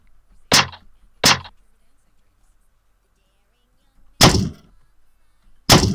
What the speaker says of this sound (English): This is me punching a piece of insulation in the garage with some compression on it.